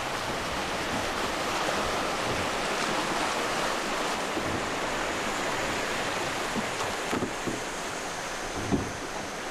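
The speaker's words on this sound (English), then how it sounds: "This section of the Hiwassee River has Class 1 and 2 rapids." Class 1 and 2 rapids on the Hiwassee River rush in a constant broadband roar of moving water, heard close from a boat with no voices over it.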